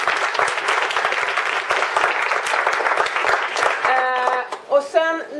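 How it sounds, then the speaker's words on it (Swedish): Dense audience applause fills a seminar room for about four seconds, then fades as a voice begins speaking near the end. "Men innan vi slutar, först ska vi ju ge Micke en jätterapp applåd."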